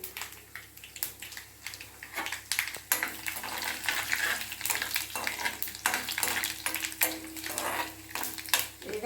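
Tempering seeds and two dried red chillies sizzle in about four spoons of hot oil, a crackling fry with spoon stirring scrapes and occasional pan clinks, fairly close but moderate in level.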